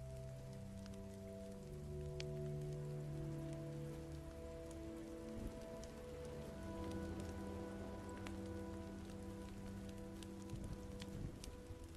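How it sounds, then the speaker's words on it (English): Steady rain in a video game patters on surfaces with scattered drips, while a soft musical drone hums underneath throughout. "yeah, it's raining."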